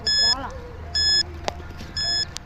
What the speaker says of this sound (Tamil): இங்கே பீப் சவுண்ட் அதிகமாகச்சுன்னா அங்கே இருக்கிறதுக்கு வாய்ப்பு இருக்கு